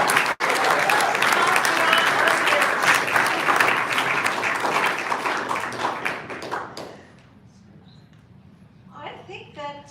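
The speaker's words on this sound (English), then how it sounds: "I want to applaud this young lady." Audience applause at a library talk, loud sustained crowd clapping that gradually tapers off and fades after about seven seconds, followed by a quiet room with a voice starting to speak.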